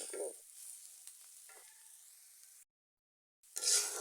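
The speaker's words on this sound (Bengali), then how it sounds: "এই তো আমার ভাজাটা অনেকটাই হয়ে এসেছে।" Jackfruit seeds fry in a pan with a faint, soft sizzle and occasional stirring scrapes, broken by a short silent gap before louder crackling returns.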